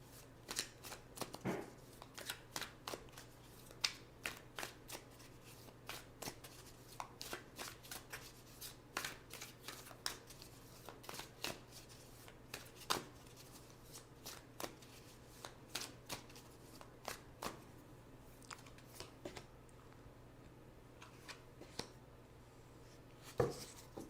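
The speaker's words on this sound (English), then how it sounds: "So now let's choose 2 cards for possible outcomes." Tarot cards being shuffled by hand, a long run of quiet, crisp riffling snaps and soft card slides repeating irregularly, close up and alone.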